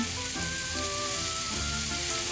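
Lima beans (patani) sizzle steadily in a hot frying pan while being stirred, a close, continuous crackling fry with soft scraping shifts as the spoon moves through them.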